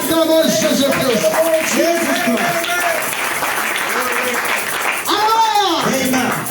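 A church congregation applauds and cheers loudly during a Sunday service, with sustained clapping and excited shouts mixed with voices and a preacher speaking over the crowd.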